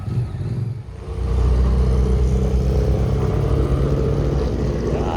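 A small naturally aspirated hill-climb race car engine rises to a loud, sustained rev from close by, holding a rough, buzzy tone for several seconds.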